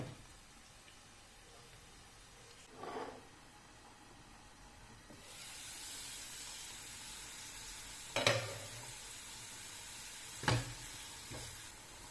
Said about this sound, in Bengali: গাজরটা এই ভাজার মাধ্যমে যেন সিদ্ধ হয়ে যায়